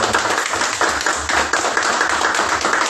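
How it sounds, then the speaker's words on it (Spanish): Congregation applauding during a church service, a dense, continuous round of clapping close by, fairly loud with no talk over it. "Démosle un aplauso, Señor."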